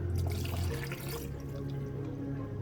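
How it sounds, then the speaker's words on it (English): Water pours steadily into an instant noodle cup, a continuous close trickle and splash that fades slightly toward the end, with no talking over it. "All right, now we add 150 mils of water"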